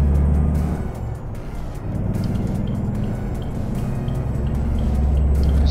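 A heavy truck engine in Euro Truck Simulator 2 drones steadily with a low, throaty rumble, rising slightly as it pulls, close and continuous with no voices.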